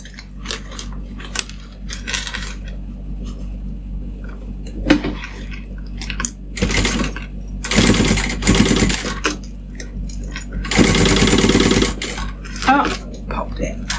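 A sewing machine stitching a fabric pouch in bursts of rapid mechanical chatter, separated by short pauses filled with clicks and small handling clatter, close and loud.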